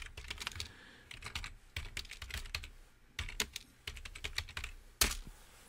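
Typing on a computer keyboard, close and crisp, with rapid bursts of clicking keystrokes separated by short pauses and a sharper single key strike near the end.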